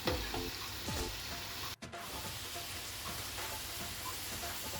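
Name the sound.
curry leaves frying in boiling hair oil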